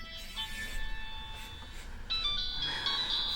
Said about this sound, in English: I forgot to turn off the cell phone.